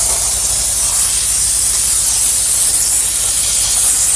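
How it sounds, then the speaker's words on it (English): A steam cleaner filled with distilled water blasts a steady, loud, unbroken hiss of spraying steam that holds even for several seconds without pause or voices. "The steam is just perfect"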